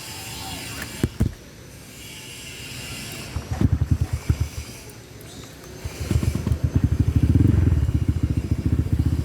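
A Honda ADV 150 scooter fitted with a racing exhaust idles outside a workshop: a close, throbbing burble rises in uneven bursts, then settles into a louder, steady rapid pulsing toward the end.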